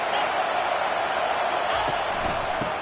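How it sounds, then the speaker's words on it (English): Stadium crowd noise from a Madden football video game, a steady, dense roar of many voices holding at an even level with a few brief thumps late on. "It is getting loud as this crowd tries to help its defense."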